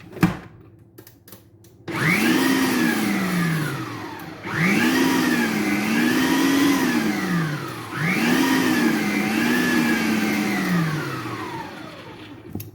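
An electric mixer beats orange polenta cake batter in three long bursts, each a loud whirring motor whine that rises and dips in pitch, after a few brief knocks at the start.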